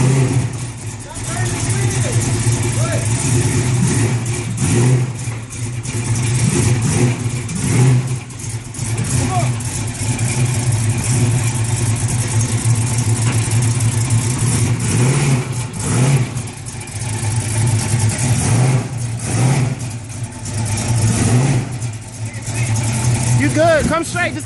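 A 1971 Chevrolet Caprice, fresh from the paint shop, idles and revs while being guided into position. The engine rumbles steadily with rises and falls, and people call out directions loudly over it throughout.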